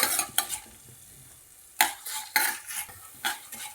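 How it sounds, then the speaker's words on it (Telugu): Something frying in a pan, with a spoon scraping and stirring in several sharp, irregular strokes over a faint background sizzle, close and alone. "లైట్ కొంచెం బ్రౌన్ కలర్ వచ్చేలాగా వేయించుకోవాలి"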